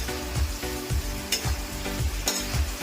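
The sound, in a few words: chicken frying and being stirred in pan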